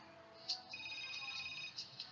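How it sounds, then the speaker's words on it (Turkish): A telephone ringtone sounds faintly in a quiet room, with a few brief bright electronic ring bursts over a low steady hum. "Telefon size efendim."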